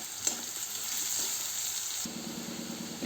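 Grated radish for chutney fries with salt in a pan, making a soft, steady sizzle up close, with a light scrape or two of stirring and a low hum coming in partway through.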